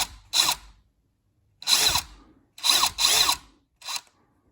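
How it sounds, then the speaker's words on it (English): Four short bursts of a power drill whining up and cutting into metal rivets on Foxbody Mustang T-top roof trim, separated by brief silences, close and fairly loud. "what usually happens when you're drilling them out"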